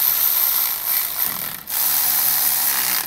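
Ratchet clicking loudly and close-up while tightening head bolts on a Honda K24 engine, a dense buzzing rattle broken by one short pause before it resumes.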